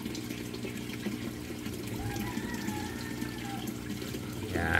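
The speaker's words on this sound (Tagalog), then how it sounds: "lalagyan natin ng tubig dito sa pond" Water being poured into a crayfish pond: a steady, close splashing and trickling that swells louder at the end.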